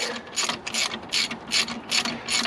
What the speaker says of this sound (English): So here's my ratchet